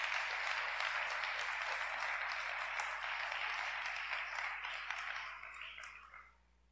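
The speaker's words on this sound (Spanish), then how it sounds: "Dele el aplauso al Rey de Reyes entonces." A church congregation applauds during a Spanish-language sermon; the clapping is broad and sustained, then thins and fades out near the end.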